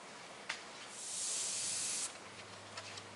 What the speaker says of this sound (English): Now what I'm doing is spraying right on this edge right here.